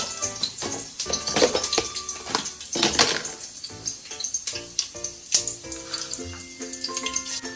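Cumin seeds dropped into hot oil with curry leaves while a Maharashtrian mutton rassa is being cooked, producing close, loud crackling sizzle with sharp pops throughout.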